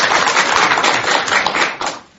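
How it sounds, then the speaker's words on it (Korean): Warm applause from an audience at a Buddhist talk program, a dense steady patter of many hands clapping close and loud, tapering off at the end. "뜨거운 박수 한번 드리겠습니다"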